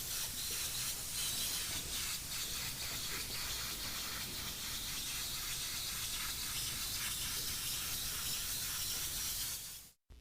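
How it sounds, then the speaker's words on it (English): An airbrush run at 25 to 30 psi from an air compressor sprays paint in a steady, loud, close hiss that holds level for about ten seconds, then cuts off abruptly at the end. "runs his airbrush at about 25 to 30 psi, or pounds per square inch of pressure"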